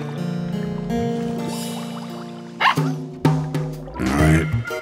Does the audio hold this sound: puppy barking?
yes